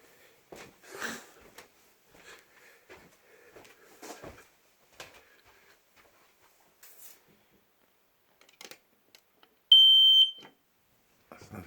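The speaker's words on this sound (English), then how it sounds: "That's another smoke detector there." A smoke detector sounds a single sharp, loud electronic beep lasting under a second, near and clear after quiet handling noises and faint sniffs.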